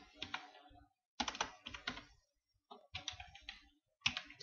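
Typing on a computer keyboard in bursts of rapid key clicks separated by short silent gaps, close and clear, with no voices.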